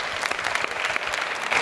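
Studio audience applause for a group of guests on a talk show, a dense, steady patter of many hands clapping close by for under two seconds, with no voices over it.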